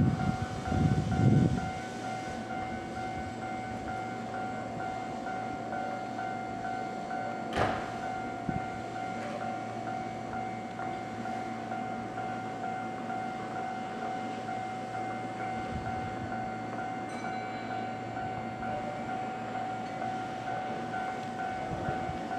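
A Kintetsu Nara Line express train pulls away from the platform at Higashi-Hanazono station, a low steady rumble and hum of motors carrying on, with a brief sharp clank early on and the station ambience around it.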